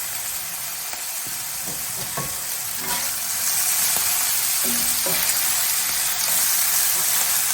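Bacon sizzles and crackles in a hot pan, a loud, close, continuous hiss with scattered pops and light stirring scrapes that grows slightly louder midway, with no voices.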